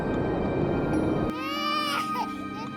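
In an animated Hindi fairy tale, a newborn girl begins crying after a dense rush of noise cuts off, giving a clear, wailing infant cry with a few rising and falling sobs.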